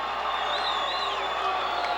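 Wrestling arena crowd cheering for Jimmy Snuka: a steady, fairly distant roar of voices and whoops held at an even level throughout, with no clear individual speech.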